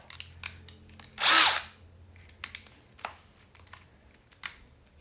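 A DeWalt drill bit bores into a steel plate from a safe on a shop bench, a single loud burst of drilling of about half a second, surrounded by faint clicks and taps.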